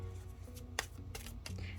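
Sturdy, bendy tarot cards are shuffled overhand in quiet bursts of soft riffling slaps, close and faint, with no voice over them.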